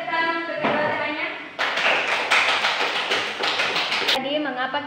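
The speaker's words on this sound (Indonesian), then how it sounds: "Beri dulu tepuk tangan untuk kedua temannya." A classroom of eighth-grade biology students breaks into loud, dense applause for two classmates, lasting about two and a half seconds, with a teacher's voice speaking just before and after.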